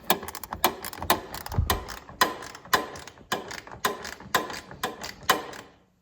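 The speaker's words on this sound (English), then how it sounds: "we're gonna locate the same adjustment bolt. Same thing here, clockwise. Just gonna lower it." Ratcheting clicks from a wrench turning the headlight adjustment bolt on a 2025 Toyota Grand Highlander, a steady series of about a dozen close, crisp mechanical ticks in an even rhythm with no talking.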